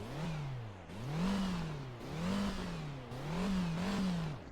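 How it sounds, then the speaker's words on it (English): A Volvo 480 ES engine in the Driving Empire video game revs four times in quick succession, each rise swelling to a whirring peak before dropping back to idle, close and with no other sound. "Let's give it a couple of revs."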